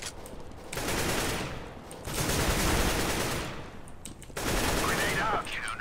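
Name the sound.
gunfire in a video game, Counter-Strike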